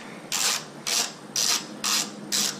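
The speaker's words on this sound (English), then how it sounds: "then just take my wrench here" A hand wrench ratcheting a 12 millimeter bolt while installing Hella Supertone horns on a 2017 Subaru WRX. Five even bursts of rapid clicking come in a steady rhythm, close and clear with no talking.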